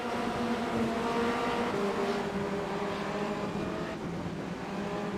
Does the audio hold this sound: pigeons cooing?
no